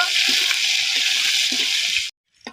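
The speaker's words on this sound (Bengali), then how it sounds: "আর এখানে আমি দিয়ে দেবো পেঁয়াজ কুচি এবার আমি পেঁয়াজ দিয়ে এক মিনিটের মতো নেড়ে নিব" Chopped onion frying in a pot with a loud, steady hiss and occasional stirring knocks, cutting off abruptly and followed by a brief scrape.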